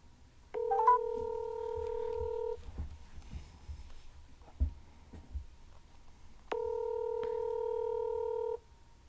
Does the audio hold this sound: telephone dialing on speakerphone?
yes